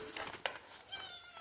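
A pet cat gives short, faint meows at close range in a quiet indoor space, with soft background noise and no clear talking.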